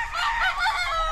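Rooster crowing at a gamefowl farm, one short, close, loud crow over a low background rumble.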